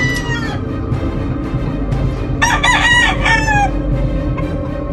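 Gray gamefowl roosters crow from their pens, with one loud, close crow rising over a steady din of other birds and farmyard noise.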